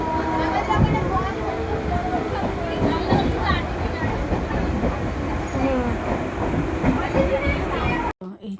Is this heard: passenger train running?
yes